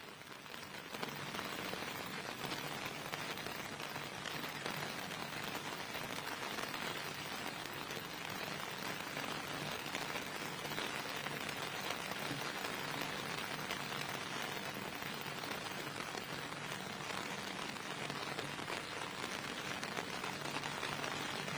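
Steady, heavy rain pours down at an outdoor anniversary celebration in a Kabale stadium, a dense continuous hiss of drops striking surfaces with no voices heard.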